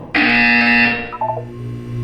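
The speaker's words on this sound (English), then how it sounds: "When you hear the buzzer, look down at the floor." A loud harsh electronic buzzer from the Portal 2 video game sounds once for about a second, then fades out into a few fainter tonal blips over a steady background hum.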